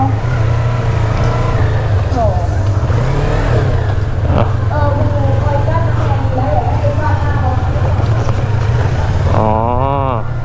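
A Yamaha New MT-03 motorcycle engine runs on a free-run test, a steady loud drone with the revs climbing sharply near the end. Someone speaks over the engine.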